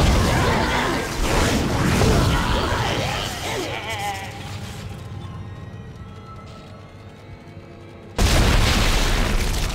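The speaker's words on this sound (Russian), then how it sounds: "какой взрыв" A loud explosion in the video game Dead Space, a heavy boom with a long crackling, debris-filled decay, then another sudden loud burst near the end; a player's voice is heard at the start.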